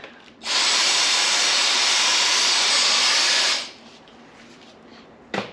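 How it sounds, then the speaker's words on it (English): A vacuum cleaner motor whirs steadily and loudly for about three seconds during a Land Cruiser gear stick housing repair, then cuts off abruptly, leaving quiet background and a brief clunk at the end. "we're actually going to use the vacuum cleaner for up in the house there"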